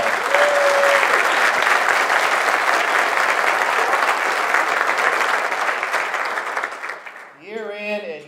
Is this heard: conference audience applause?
yes